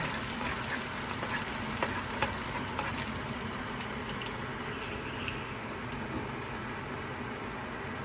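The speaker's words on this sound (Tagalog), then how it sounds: "Igisa natin ang ating uh, bawang." Garlic sautéing in a pan as pancit bihon is cooked, a steady close sizzle with faint stirring clicks throughout.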